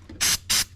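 Close-up aerosol MAF sensor cleaner sprayed onto the mass airflow sensor of an off-road vehicle: three sharp hissing bursts, each about a tenth of a second long, with short pauses between them.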